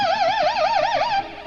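An electric guitar with a floating tremolo bar sustains one note while the bar is wobbled, bending the pitch up and down in quick regular waves before the note drops away near the end.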